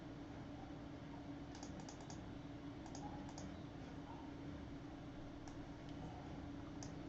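Faint, distant keyboard typing and a few computer mouse clicks in short clusters over a steady low hum, no voices.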